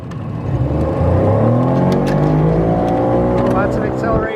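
A Tohatsu outboard motor on a small boat accelerates hard, its engine tone rising steadily and staying loud and close throughout, with voices talking over the motor.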